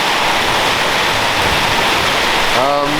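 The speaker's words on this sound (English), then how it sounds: "we're at 130 millimetres an hour and 45 millimetres of rain so far" Heavy tropical rain pours down in a dense, loud, unbroken hiss, at about 130 millimetres an hour, with a brief tonal sound near the end.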